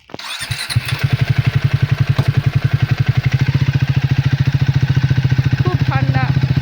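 A motorcycle engine starts and settles into a steady, loud close-up running rhythm as a rider gets on in cold weather, heading to a shop for a bike wash; brief talk occurs near the end.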